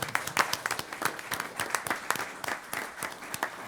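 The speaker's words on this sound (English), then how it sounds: "a round of applause to ODOT" Applause for ODOT from a small group at a transportation commission meeting, distinct individual claps in a quick irregular patter, close and clear, lasting the whole moment.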